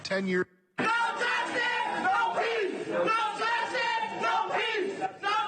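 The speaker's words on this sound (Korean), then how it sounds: "예상보다 낮은 형량 선고에 법정 밖에 시민들은 야유를 쏟아냈습니다" Citizens gathered outside a Texas courthouse boo and shout after a lower-than-expected prison sentence, a loud, sustained crowd roar of jeers and yells after a brief cut near the start.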